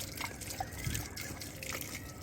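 Water trickles and splashes faintly while plants are watered by hand, a soft continuous running flow with light sloshing in quiet surroundings.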